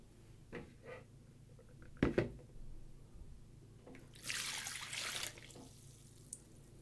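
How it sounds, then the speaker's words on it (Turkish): Water poured into a jar of thin peppers for a Turkish pickle, a brief close splashing gush that follows a few light clinks and knocks in a quiet kitchen. "Yarıya kadar şimdi su dolduracağız üzerine."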